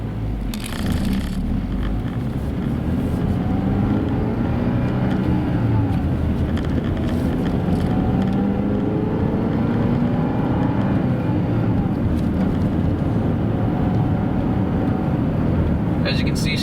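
A 1998 Honda Accord converted to a manual transmission cruises along a road, its steady engine and road rumble continuous and close throughout, with a voice talking over it.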